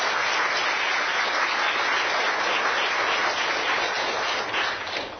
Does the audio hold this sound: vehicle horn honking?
no